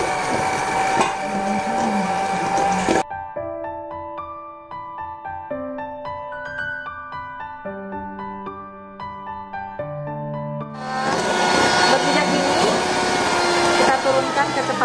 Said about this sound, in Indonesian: Jadi yang pertama saya mixer dulu mentega sama gula halusnya.